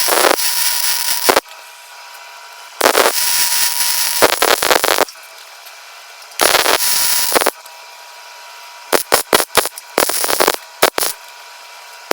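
Repairing broken metal on a King Kutter brush hog: bursts of harsh, crackling broadband noise, several long stretches and a run of short stuttering bursts, separated by quiet gaps, close and loud with no talking.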